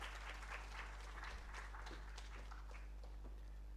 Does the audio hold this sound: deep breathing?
no